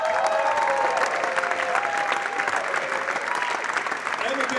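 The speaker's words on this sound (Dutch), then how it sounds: "Mag ik een geweldig applaus voor de productieleider Charlotte Etterkin" A hall audience gives warm, continuous applause for a theatre production manager, dense clapping holding steady throughout with a few faint voices underneath.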